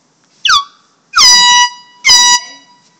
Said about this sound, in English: Some air horn right here to get rid of the raccoon,